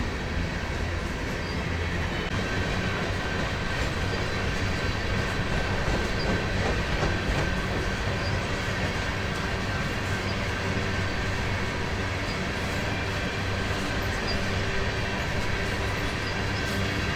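A BNSF freight train of empty hoppers rolls past close by, a loud continuous rumble with rhythmic clickety-clack of wheels over rail joints and a faint metallic whine throughout.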